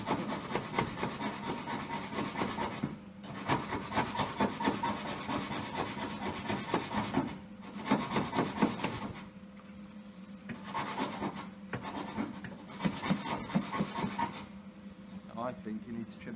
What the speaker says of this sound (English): Smells good when you're sanding it.